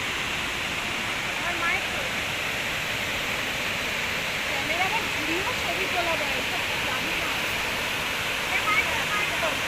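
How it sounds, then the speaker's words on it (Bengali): Water pouring down from a temple pool (kund) into a stream at Panchalingeswar, Odisha, a steady broad rushing flow, close and constant, with a person talking over it. "এইখানে কুণ্ড জল এইখান থেকে নেমে যায় আস্তে আস্তে এইখান থেকে নেমে বয়ে যায় নিচের দিকে"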